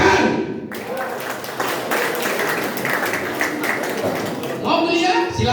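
An audience claps hands at a motivational talk, a dense burst of clapping that starts abruptly, holds for several seconds, then thins as a voice returns.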